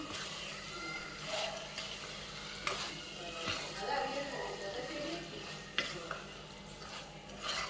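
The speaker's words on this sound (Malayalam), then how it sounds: "ചിക്കൻ ഇട്ടിട്ട് നല്ലോണം ഒന്ന് ഇളക്കി" Chicken stirred into masala in a pot for Kerala varutharacha chicken curry: soft frying sizzle under repeated scraping and clinking stirring strokes, with a faint voice in the background.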